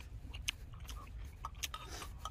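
Someone chewing rice-cake soup with kimchi and meat, soft close mouth sounds and small crunchy bites at irregular intervals, faint and alone.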